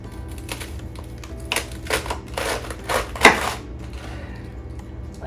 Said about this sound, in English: Now let's cut our romaine lettuce.